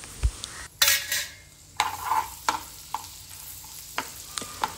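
Finely chopped garlic sizzles in a pan while a utensil scrapes and clinks against it in irregular strokes over a steady low frying hiss. No one speaks.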